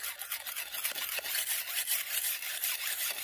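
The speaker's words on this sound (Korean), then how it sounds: "그래서 낫을 일단 좀 갈고" A sickle blade is sharpened by hand on a stone at the edge of a weedy ditch, giving a steady rasping, rubbing scrape that repeats in quick strokes, close and fairly quiet, with no talk.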